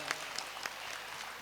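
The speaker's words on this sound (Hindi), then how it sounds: "उनका इस्तकबाल कीजिए, तालियां बजा के एक बार।" Audience applause at an Indian mushaira and kavi sammelan poetry gathering: faint, distant clapping from a crowd that carries on steadily for a brief moment.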